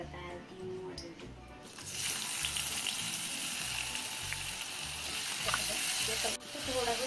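Chopped ginger, garlic, green chili and onion hit hot oil and break into a loud, steady sizzle that keeps going for several seconds, with quieter stirring and kitchen clatter before it starts.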